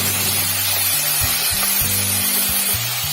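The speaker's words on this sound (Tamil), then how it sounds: "சேர்த்துட்டு இதையும் நம்ம நல்லா வதக்கிக்கலாம்" Onion, garlic and tomato being sautéed in a pan: a steady loud sizzle with stirring under it, and a low droning hum that shifts pitch in the background.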